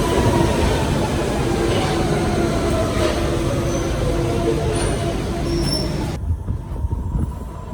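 A London Underground tube train rumbles loudly and steadily, with faint metallic wheel squeals over the running roar, before the noise eases near the end.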